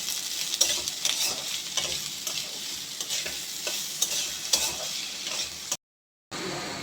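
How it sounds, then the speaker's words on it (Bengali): Tomatoes with a pinch of salt fry in a pan for Madrasi chicken masala, with a close, crisp sizzle and repeated spatula scrapes. A brief silent gap falls near the end, then the sizzling resumes. "সামান্য নুন এর মধ্যে দিয়ে দেবো। দিয়ে এটাকে ভাজবো যতক্ষণ না টমেটোগুলো নরম হয়ে আসে।"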